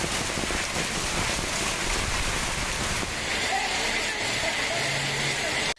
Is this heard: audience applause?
no